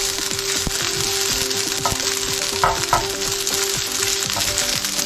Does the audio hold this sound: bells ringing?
no